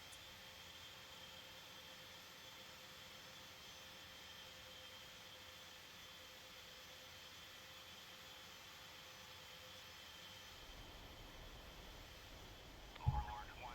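A jet airplane engine drones in a flight simulator video game, a faint, steady whine and hiss that holds evenly throughout, with a brief bump near the end and no talk.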